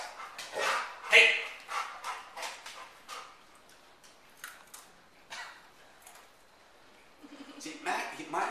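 A dog barks in several quick, sharp bursts and whimpers in between, close by, with people talking over and around it in a home at a fireworks gathering.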